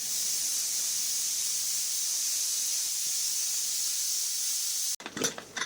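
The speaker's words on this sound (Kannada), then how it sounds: "ಕುಕ್ಕರ್ ಲಿಡ್ಡನ್ನು ಕ್ಲೋಸ್ ಮಾಡಿಕೊಂಡು 2 ವಿಸಲ್ನ ಕೂಗಿಸ್ಕೊಳ್ಳಿ." A loud, steady hiss of steam escaping from a pressure cooker cooking lentil sambar runs for about five seconds, then cuts off abruptly and a few clattering noises follow.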